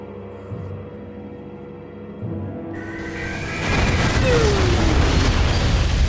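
A heavy explosion in Metroid Prime 3 erupts after a quieter humming stretch, swelling into a loud sustained roar of debris and rumble that fills the rest of the moment.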